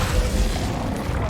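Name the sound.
Descendo spell cast and impact in video game Hogwarts Legacy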